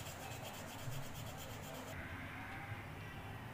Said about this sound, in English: So, take out your crayons. I am using dark green crayon.